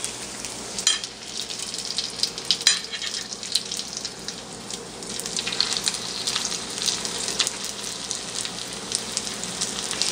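Lumpia frying in hot oil in a pan, a dense, continuous bubbling sizzle with scattered crackles and pops, close and steady throughout.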